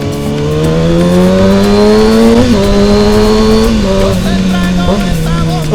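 A big motorcycle engine revs hard and loud up close, a sustained roaring tone that climbs and dips through several throttle blips over a few seconds.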